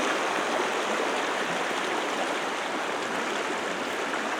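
A river flows steadily in the open, a continuous broadband rush of moving water that holds an even level throughout with no voices.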